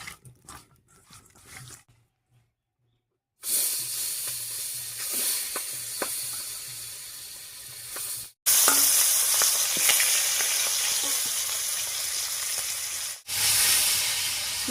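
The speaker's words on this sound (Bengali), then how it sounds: "মাছগুলো ভাজা হতে থাক হালকা করে" Live singi fish lightly frying in hot oil with turmeric and salt. A steady, loud sizzle starts after a few quiet seconds and keeps going, broken by two short pauses.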